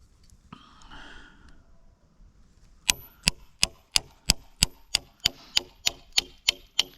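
Chisel struck into a round log for joinery, about a dozen sharp, evenly spaced mallet-driven knocks ringing close and crisp after a quiet stretch with faint breathing and rustling.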